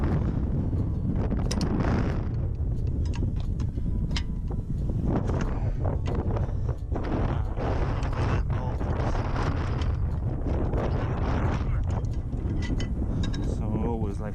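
Steady outdoor wind buffeting the microphone, a loud continuous rumbling roar that never lets up, with a voice talking over it.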